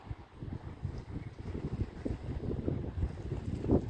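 Gusty wind buffets the microphone at a river fishing spot in Lowestoft, a low rumbling, fluttering roar that rises and falls unevenly throughout, close and fairly loud with no other clear sounds.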